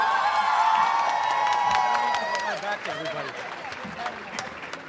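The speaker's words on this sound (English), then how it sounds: "Please join me in a big round of applause for our next speaker" An audience at a New York State gathering in Albany claps and cheers for several seconds, with some whoops above the steady applause, which then thins out.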